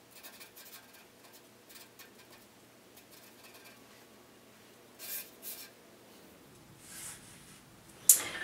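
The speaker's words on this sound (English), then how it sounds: "I'm just going to put a couple little scratch lines on there" A pencil lightly scratching short lines on paper during a pop art drawing, with faint, close strokes in sparse bursts and a soft rustle near the end.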